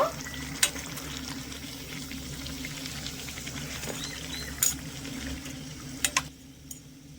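Parathas frying in oil with a quiet continuous sizzle, broken by a few sharp clinks and scrapes of a utensil near the end.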